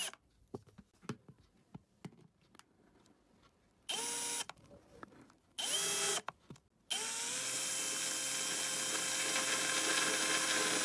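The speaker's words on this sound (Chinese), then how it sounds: "卸螺丝" A power tool runs in reverse on a rusted, stripped screw, first giving short ratcheting clicks and brief bursts, then settling into a long, steady, loud mechanical whir.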